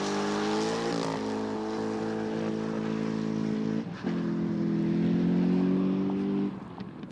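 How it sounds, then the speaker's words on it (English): A GM ZR1 production sports car engine, the most powerful GM has fitted, drones steadily at a sustained loud pitch, briefly dipping then rising again as the car drives on, with no talk. "The engine is the most powerful engine ever to be put into a GM production sports car"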